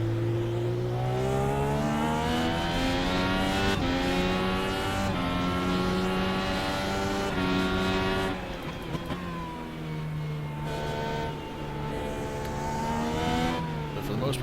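An IndyCar engine driven on the Indy road course in the iRacing video game screams loudly and steadily, then drops in pitch through several downshifts before it climbs again under acceleration.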